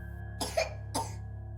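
Two short, faint coughs about half a second apart over a steady low hum, with no other voices.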